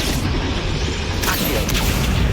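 A Confringo fire spell blasts in Hogwarts Legacy, a loud broadband burst with a crackling rush that swells near the middle and trails into a sustained roar over low rumble.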